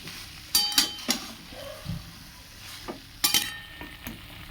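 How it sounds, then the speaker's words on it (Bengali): A spoon stirs and mixes a Bengali vegetable curry with bori in a pan, with a few sharp scraping clinks and soft mushy stirring at a close, uneven pace over quiet background. "আরও একবার মাখিয়ে নেব প্রত্যেকটা উপকরণ"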